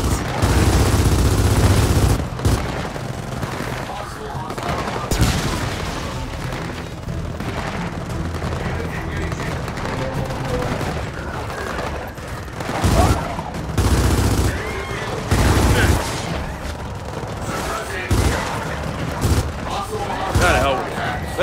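Heavy gunfire fills a battle in the video game Gears of War 4 as armored troopers fight the Swarm, with repeated loud bursts and booming blasts under frequent talk.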